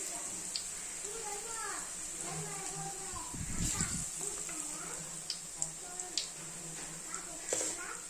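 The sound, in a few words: potato bajji frying in hot oil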